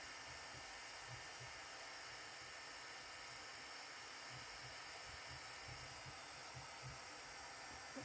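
A heat tool blows hot air to melt thick embossing powder, giving a steady, faint fan-like hiss and whir that runs unbroken for the whole stretch with no talk.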